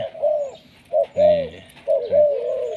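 A decoy dove coos close by in a few deep, soft phrases separated by short pauses, alone without any talking.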